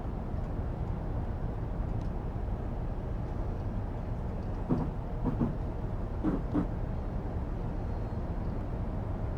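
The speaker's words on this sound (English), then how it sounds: "Just gonna let the train roll down the hill." A Class 395 high-speed electric train rolls downhill in Train Sim Classic, giving a steady, even rumble of wheels on track with a few faint clicks and knocks from the carriages, and no talking.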